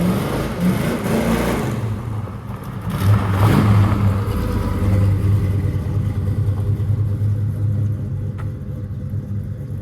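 An old square body truck with an iffy second-gear synchro accelerates hard at a drag race, its engine a loud, close, low rumble that surges and holds as it tries to shift into second.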